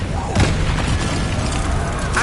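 A Confringo fire spell explodes in the video game Hogwarts Legacy, a short booming burst standing out against a dense, continuous bed of game noise and spell effects.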